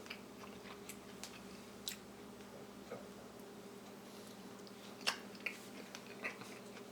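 Someone chews and bites cold smoked salt pork with mixed greens, giving soft, close, moist chewing with a few sharper crunchy bites scattered through an otherwise quiet stretch.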